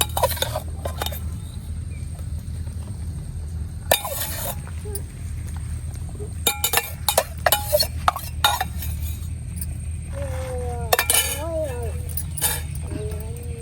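Fried potato is stirred into thickened milk for potato payesh, with scattered metallic clinks of a utensil against the pot over a low simmering background. A voice talks briefly near the end.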